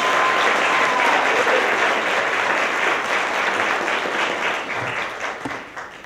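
Sustained audience applause at a community service awards ceremony, a dense steady wash of clapping from a large crowd that holds strong for six seconds and thins slightly toward the end.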